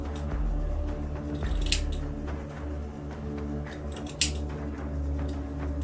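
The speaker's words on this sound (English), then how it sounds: "But at least we can try to start trimming away some on top here." Scissors trimming a beard, a few crisp close snips scattered over a low steady background hum, with no talk.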